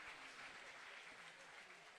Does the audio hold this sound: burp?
no